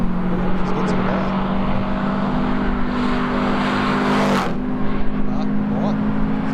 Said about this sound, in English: And WRX now along the hill. She's got some power.